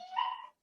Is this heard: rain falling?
no